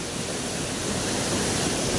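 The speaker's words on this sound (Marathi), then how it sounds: "आता फायनली धबधब्याकडे पोहोचलो" A waterfall running high with water thunders in a steady, dense roar, continuous and fairly loud with no voices over it.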